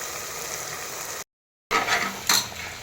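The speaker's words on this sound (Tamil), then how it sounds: "இப்போ அது நம்ம எண்ணெயிலே வதக்க போகிறோம்" Biryani masala and yogurt frying in oil for a vegetable chickpea biryani, a soft sizzle with light stirring and utensil clinks, broken by a brief total silence before resuming.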